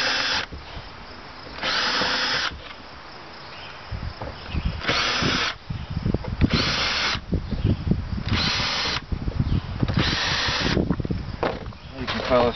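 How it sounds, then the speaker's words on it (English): Power drill boring pilot holes in a wooden solar panel frame, with repeated loud, close bursts of high whirring separated by short pauses, and a voice talking between them. "And then I follow up and make all the pilot holes."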